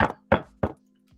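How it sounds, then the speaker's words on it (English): Three firm knocks on a house door, evenly spaced and close by, with quiet between each rap. "I rode my bike to his house and knocked"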